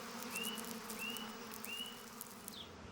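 Male bees buzz around a bee orchid flower outdoors: faint, short rising buzzes come in three or four brief bursts over a low, steady background hum.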